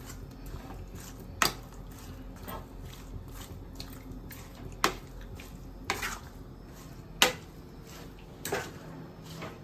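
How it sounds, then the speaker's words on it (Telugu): Prawn roast being stirred with a ladle in a kadai: a low bed of sizzle broken by several sharp metallic scrapes and knocks at irregular intervals, close up and without speech. "మొత్తం అంతా కలుపుకుందాం గరిటెతోని."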